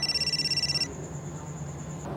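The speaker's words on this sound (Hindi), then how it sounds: "पानी पी चुके तो फोन उठा लो, 10 मिनट से बज रहा है।" A short electronic telephone ring pulses rapidly for under a second, then a steady high tone lingers faintly before fading.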